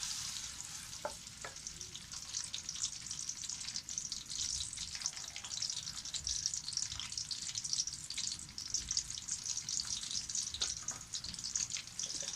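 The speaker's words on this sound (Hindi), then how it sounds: "घी गर्म हो चुका है, अब हम इसमें प्याज डाल देंगे।" Chopped onions sizzle and crackle steadily in hot ghee in a pan, a continuous bright frying hiss with occasional soft stirring scrapes, moderately quiet and heard alone.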